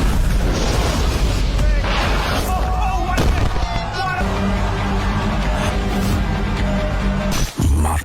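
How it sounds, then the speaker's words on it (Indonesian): A sniper rifle fires from very long range in a cinematic thriller scene, with loud booming blasts and rumbling over a dense, dramatic soundtrack. "seorang sniper wanita muncul dan langsung melepaskan satu tembakan dari jarak yang"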